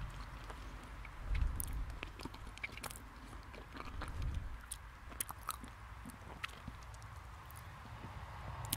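Close-up chewing of a chocolate-covered, banana-flavored soft Swedish sweet, quiet soft squishy bites and mouth sounds with a few sharper clicks, spread unevenly over several seconds with no talking.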